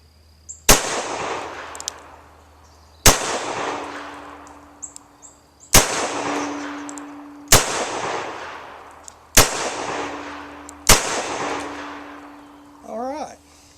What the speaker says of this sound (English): I'm going to be shooting at the steel target about 10 yards out.